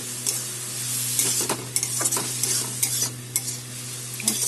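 Greens stir-fried in a pan with egg and onion, a steady sizzle under repeated scraping strokes of a spatula at close range, with no talking.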